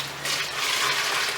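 A small amount of water poured into cement mix while building a forge, a soft, short gush and trickle heard faintly up close.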